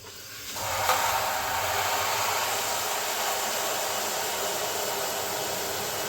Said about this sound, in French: Et puis, j'ouvre l'eau bien chaude.